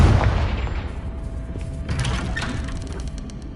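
The Confringo explosive spell is cast in Hogwarts Legacy, a deep booming blast that rumbles and fades over a few seconds, with crackling debris-like texture in the tail.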